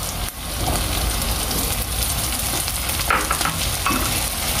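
Chopped onion frying in a pan until golden, for a caldo verde soup, gives a steady, dense sizzle that runs close and unbroken throughout with no one speaking.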